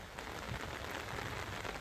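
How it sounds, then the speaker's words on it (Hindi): Heavy rain in Anantnag, Jammu and Kashmir, pours down as a dense, steady hiss of drops striking surfaces, constant and fairly close with no voices. "जम्मू कश्मीर के अनंतनाग में भी बारिश ने बुरा हाल किया है।"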